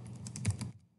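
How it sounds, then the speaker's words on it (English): Short burst of typing on a computer keyboard as a name is entered, a quick cluster of soft key taps lasting under a second, close and quiet. "You have to type your name"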